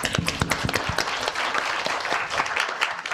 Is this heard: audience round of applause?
yes